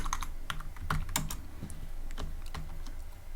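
Close, rapid typing on a computer keyboard while writing Python code, with irregular clicks and key taps in quick bursts and short pauses, and no voices.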